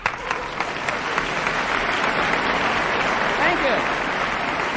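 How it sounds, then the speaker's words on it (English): A live campus audience bursts into warm, sustained applause for a member of a 1961 vocal group, a dense, even wash of clapping that holds steady, with a voice faintly heard underneath. "Very wonderful round of applause for Mr. Marvin Ingram."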